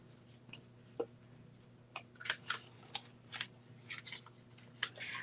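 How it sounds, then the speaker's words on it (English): Scissors fussy cutting paper for a holiday money gift holder, a series of quiet close snips and crisp rustles in uneven rhythm, with no talking. "it's just as easy to go ahead and fussy cut this since I'm right here doing it with my scissors"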